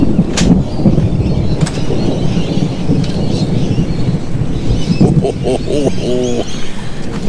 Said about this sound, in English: there is thunder and lightning all around us